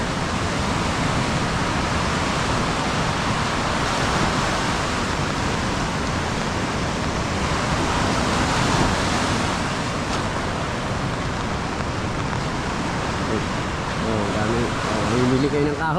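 The Bukana river flowing, a dense, steady broadband rush of water that stays constant and fairly loud throughout, with a voice speaking over it.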